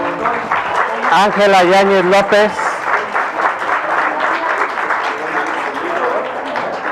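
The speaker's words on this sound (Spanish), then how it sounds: "Pido un aplauso" Applause from an audience at a neighbourhood project unveiling in Colonia El Arenal, Azcapotzalco, honouring the director, with a crowd clapping and cheering steadily while a speaker talks over the start.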